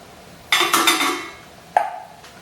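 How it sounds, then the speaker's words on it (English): Freshly ground coffee poured into a French press, a half-second scattering rush followed by a second short pour, close and clear with no talk. "After the coffee beans are ground, you can pour them into the French press"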